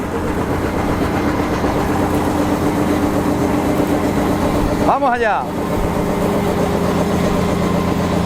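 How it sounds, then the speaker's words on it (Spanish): A farm tractor pulls a trailer through the fields during the barley harvest. Its engine holds a steady, close, rumbling drone throughout, and someone briefly speaks midway. "Ahí viene el tractor con el remolque."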